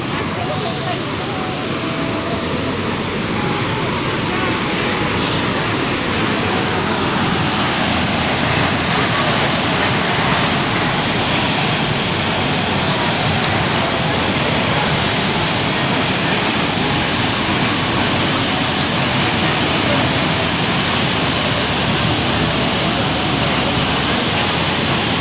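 Heavy rushing water from a monsoon-swollen waterfall in Pokhara, Nepal, forms a loud, continuous broadband roar close by that never lets up, with voices faintly audible beneath it.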